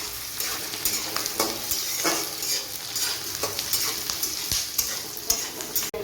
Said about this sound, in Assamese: ইয়াতে পিঁয়াজখিনি প্ৰায় ভজা হৈয়ে গৈছে।